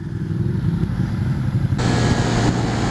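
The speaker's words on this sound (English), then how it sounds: "That 2-into-1-into-2 exhaust sounds really, really good." 2016 Ducati Monster 1200R with a 2-into-1-into-2 exhaust, heard as a steady low engine drone under heavy wind rush while riding, with the tone shifting partway through.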